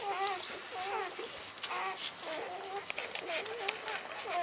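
Newborn puppies, two days old and born by C-section, nursing from their mother make a busy stream of high squeaks, whimpers and little grunts, fairly close and continuous.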